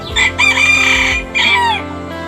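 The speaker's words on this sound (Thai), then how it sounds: "มีไก่แจ่อยู่ทั้งหมด" A bantam rooster crows loudly and close, a high, strained cock-a-doodle-doo broken into bursts, with no talking.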